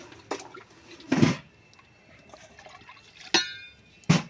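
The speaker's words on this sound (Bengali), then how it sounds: "2 মগ জল দিয়ে দেবো।" Water poured from a mug into a wok over a stove splashes in a few short separate bursts, moderately loud and close, with quiet pauses between the pours.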